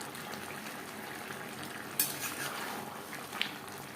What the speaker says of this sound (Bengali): ধনেপাতা ও কাঁচা লঙ্কা লাউর সাথে বেশ ভালো করে মিক্স করে দেবো।